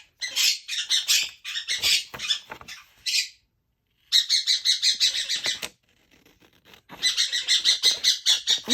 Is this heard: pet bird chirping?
yes